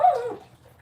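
A dog gives one short, high whimper up close, then it fades to near quiet.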